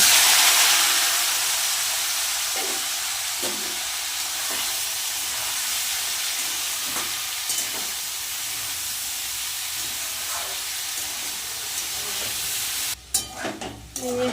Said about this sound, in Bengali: উচ্ছে আলু ভাজা হচ্ছে